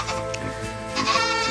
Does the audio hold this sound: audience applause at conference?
no